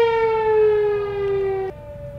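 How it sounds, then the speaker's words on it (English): A loud, steady tornado siren wail holds one slowly falling tone, then drops abruptly to a lower pitch near the end, with rumbling background noise underneath, in Fond du Lac. "Sounds like a tornado siren."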